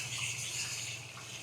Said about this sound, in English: So I'm filling the sink and doing some dishes.